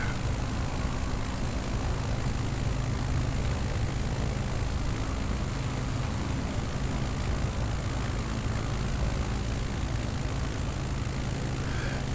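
A steady, loud drone of an aircraft propeller engine at full throttle in Microsoft Flight Simulator 2020, holding a constant roar throughout during a bush trip over Nevada.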